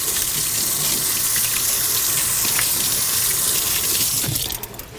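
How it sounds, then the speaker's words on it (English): Surgical tools rinsed under running tap water, a steady loud gush of water into a sink that carries on throughout before easing off at the end, with faint clinks of metal. "So we're going to rinse these guys."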